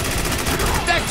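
Dense automatic gunfire in the war shooter Spec Ops: The Line, a loud continuous rattle of rounds throughout the short burst.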